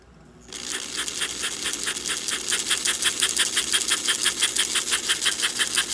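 An American Flyer prewar 564C tender chugger, its cylinder lubricated with beeswax chugger butter, starts abruptly and keeps up a steady, rapid mechanical chuff-chuff rhythm, loud and close, with no talking.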